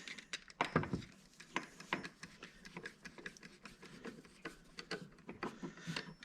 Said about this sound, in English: Put the wrench on it. Tighten the screw down.